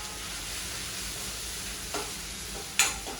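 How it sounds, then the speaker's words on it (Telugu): A small spoonful of ginger garlic paste and turmeric frying in oil for a chana dal masala curry, a steady close sizzle with a couple of brief stirring clinks near the end. "ఇప్పుడు దీంట్లోకి ఒక చిన్న స్పూన్ అల్లం వెల్లుల్లి ముద్ద, అట్లానే పసుపు, వేసుకొని ఈ రెండు పచ్చి వాసన పోయేంత వరకు ఫ్రై చేద్దాం."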